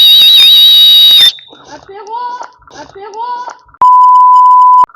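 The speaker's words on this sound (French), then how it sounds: "on a aussi également un sifflet de secours qui se trouve sur" Emergency whistle built into the shoulder strap of a Skysper Tengger 20 hiking backpack, giving two short shrill blasts between breathy tries and then one long steady piercing tone, loud and close.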